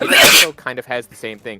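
A single loud, close sneeze bursts out at the start, followed immediately by ordinary conversational speech from a person talking.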